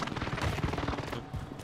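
Heavy gunfire in Warzone on Rebirth Island, a dense continuous burst of rapid shots and fusillade, loud and close, lasting under two seconds.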